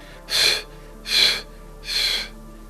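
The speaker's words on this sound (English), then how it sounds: "3 quick exhales" Three quick, forceful breath exhales during a guided breathing exercise, evenly spaced and close, with no talk over them.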